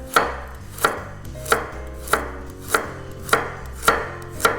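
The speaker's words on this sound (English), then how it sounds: "Just cut them into thick slices." A knife chops a small carrot into thick slices on a cutting board, with eight evenly spaced, crisp, close chops and no talk.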